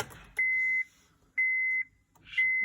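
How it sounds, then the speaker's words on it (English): Three evenly spaced electronic beeps, each about half a second long, sound in a 2007 Honda Odyssey before the engine is started. They are clear and close in a quiet cabin. "After this beeping ends, I will start it up."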